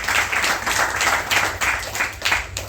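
Students at an orphanage and old-age ashram clap together in welcome at a first-birthday celebration, a close, loud group applause pulsing in a loose rhythm of repeated bursts.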